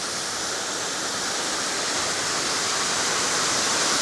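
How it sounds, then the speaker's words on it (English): Steady, dense roar of a large waterfall near a beach area in Burlington, Vermont, a constant broadband rush of falling water with no pauses, loud and close throughout. "It's just a short walk here to see the other waterfall, which is much larger."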